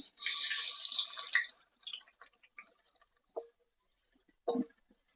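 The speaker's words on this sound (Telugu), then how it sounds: "ఇప్పుడు సన్నం కట్ చేసి పెట్టుకున్న ఉల్లిగడ్డ వేసుకుందాం." Thinly sliced onions drop into hot oil with a bay leaf and burst into a loud hiss that quickly fades into scattered faint crackles, followed by a couple of brief utensil knocks.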